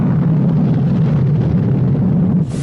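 Space shuttle Atlantis rocket engines throttling up during launch in a 1986 film, a loud, steady low roar that fills the whole clip and drops off sharply near the end.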